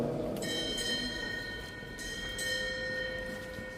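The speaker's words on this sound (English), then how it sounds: "Time orderly, strike 4 bells." A ship's bell rings in paired ringing strikes at a naval air station ceremony in Sigonella, each clear metallic tone lingering over a low hum of a large outdoor gathering.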